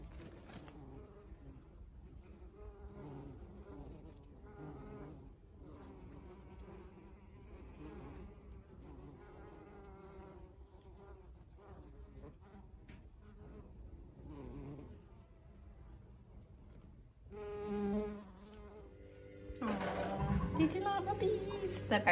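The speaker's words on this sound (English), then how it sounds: "They're very busy bees," Bees buzzing around lavender overhanging a garden path, a continuous close droning hum with people talking over it, louder rustling near the end.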